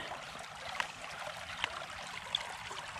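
Steady trickling, streaming water pumped through a return hose, with a continuous wet gurgle, moderately close, with a few faint clicks and no talking.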